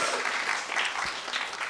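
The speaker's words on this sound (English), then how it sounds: "Everyone give a massive round of applause to our Rosé administrator." Comedy-club audience breaking into a short burst of dense, steady applause, a full room clapping together for under two seconds.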